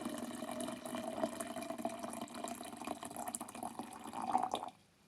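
Boiled water pours steadily into a 1000 ml Krauff French press for several seconds, a splashing gurgle close up, then stops abruptly.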